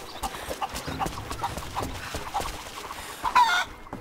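Chickens clucking in the video game Rise of the Tomb Raider, set amid a busy, continuous bed of game ambience and footstep-like clatter, with a sharper burst near the end.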